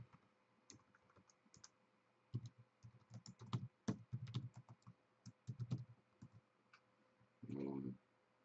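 Computer keyboard keys are typed in quiet, close bursts of irregular clicks, with brief speech near the end.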